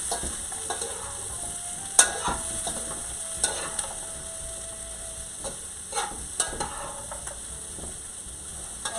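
Shrimp being stirred in a frying pan while cooking, with a soft steady sizzle and scattered utensil clicks and scrapes against the pan, close and moderately quiet, no talking.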